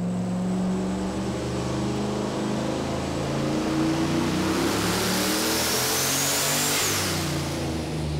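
A high-horsepower drag car engine screams at full load on a chassis dyno at SummerNats 26, a loud continuous roar climbing in pitch throughout the pull with no talk over it.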